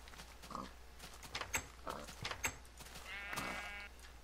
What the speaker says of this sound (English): I heard a sheep eat something.